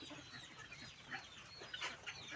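Chinese big-footed chickens, year-old breeding stock, cluck and chatter in a pen, several overlapping short calls at moderate distance over steady background noise.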